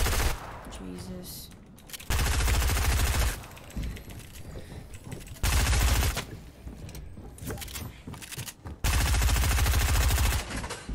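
Bursts of video game gunfire in Fortnite, rapid automatic shots coming in several loud volleys separated by quieter gameplay noise.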